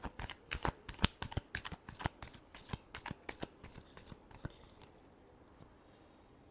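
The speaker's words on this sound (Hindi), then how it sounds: "Last shuffle." Tarot cards being shuffled for a reading, a run of crisp, close riffling flicks in quick succession that thin out and stop about two-thirds through, leaving quiet room tone.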